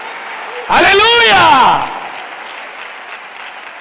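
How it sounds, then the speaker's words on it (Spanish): A church congregation claps steadily through the whole stretch while a man gives a loud, drawn-out shout of praise over the applause. "Démosle palmas al Señor, hermano."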